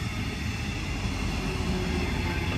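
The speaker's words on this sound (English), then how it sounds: "Another double-deck DB Deutsches Bahn commuter train." A Deutsche Bahn double-deck commuter train rumbles past on the mainline at Radebeul Ost, Germany, at steady volume, a dense roar of wheels on rails filling the whole stretch.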